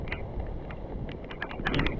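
Wind rushes past a fishing boat at sea off Coron, Palawan, a steady broadband roar with light knocking and splashing, brief and close to the microphone.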